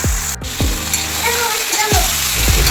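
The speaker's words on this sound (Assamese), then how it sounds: "মাংসটো ভালদৰে মই লৰাই দিছোঁ" Local chicken meat frying in a pan with whole spices, with a steady loud sizzle and repeated scraping strokes of a spoon as it is stirred, close up and continuous.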